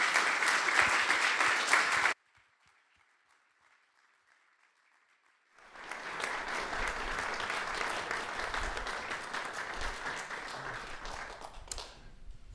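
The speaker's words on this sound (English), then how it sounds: "please give a warm applause to our speaker" Conference audience applauding a speaker at an Aldous Huxley event: a burst of dense clapping that breaks off into near silence, then swells back into sustained, fairly loud applause.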